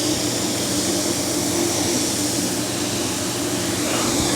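A vacuum runs on the powder line of a DTF gang sheet printer, a steady, loud, unbroken whooshing drone that holds without change from start to finish.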